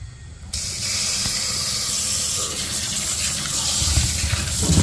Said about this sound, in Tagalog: pagka-blanch niya, pahuhugasan natin maigi